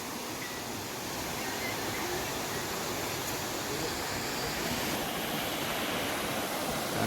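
A continuous broadband rush of river water flowing, steady and fairly close, with no voices.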